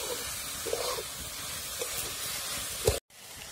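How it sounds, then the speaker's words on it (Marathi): Chopped onion sautés in an iron kadhai for onion chutney, giving a steady soft hiss with a few brief scraping stirs, moderately quiet, broken by a short cut near the end, with no talking. "आपला कांदा बी म्हणजे मस्त परतत आलेला आहे"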